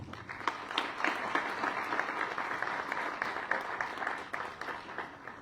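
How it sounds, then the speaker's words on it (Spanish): A conference audience applauds steadily, a dense patter of many hands clapping at moderate distance, holding even throughout before easing slightly near the end. "Un aplauso, por favor."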